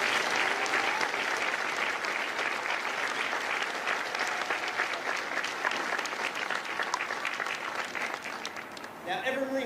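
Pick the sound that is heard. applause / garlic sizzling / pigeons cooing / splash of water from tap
applause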